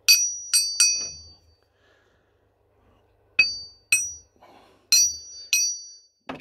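An old steel part is struck about seven times, in a quick cluster and then a few more spaced taps, and each hit gives a bright, glassy ring that decays within a fraction of a second, with quiet gaps between.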